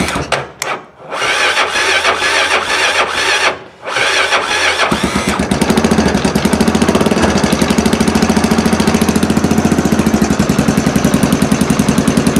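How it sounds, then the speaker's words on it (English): An old quad ATV with a frozen battery cranks in several short bursts with pauses, then catches and settles into a loud, steady, rapid engine idle, close up. "We started up our old quad."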